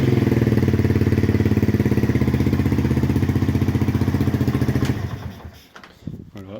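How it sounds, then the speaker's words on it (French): A motorcycle engine fitted with an electric starter and a larger carburettor runs loud and close with a steady, rapid pulsing beat, then cuts out near the end, leaving a few brief rattles. "la moto va démarrer"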